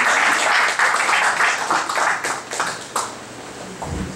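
Applause from an audience at an academic event on scientific research in higher education institutions, following a name announced at a ceremony; dense, steady clapping that fades toward the end.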